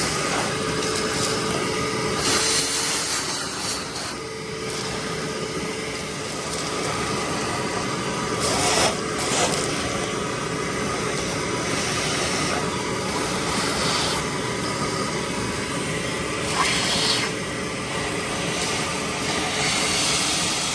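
A 1916 Federal Motors truck engine, revived after more than fifty years, runs continuously with a dense, rough roar and occasional louder bursts. The sound is steady throughout with no speech.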